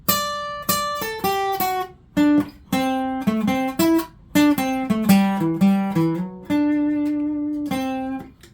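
A guitar plays a slow melodic phrase of clear, separate notes, with brief gaps between groups and a longer held note near the end.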